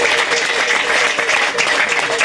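Church congregation clapping in praise during a worship service, a dense steady applause mixed with voices.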